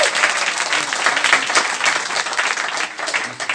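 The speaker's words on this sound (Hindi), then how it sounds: "एक बार तालियां बजा दीजिए दम लगा के।" Sustained audience applause at a network-marketing seminar, dense and fairly loud, a steady wash of many hands clapping with no voices over it.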